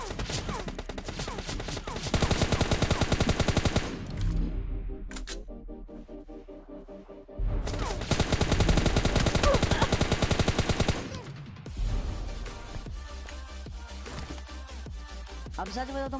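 Gunfire in the video game PUBG Lite comes as long, rapid automatic volleys, loud and sharp. Two sustained bursts are split by short lulls, and a lower background continues throughout.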